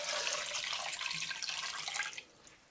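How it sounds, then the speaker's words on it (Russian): Water poured into a pot of meat for Russian shchi in a village house, a bright, continuous splashing stream that runs steadily for about two seconds and then tapers off abruptly. "Заливаем все водой и немножко солим."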